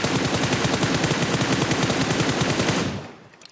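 Sustained automatic gunfire spray from a battle royale video game, a dense rapid rattle of shots lasting about three seconds before cutting off abruptly into quiet.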